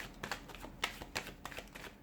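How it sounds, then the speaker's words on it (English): A deck of cards is shuffled up close, giving a rapid burst of riffling, flicking card slaps in quick uneven succession with no voice over it. "give the cards a shuffle"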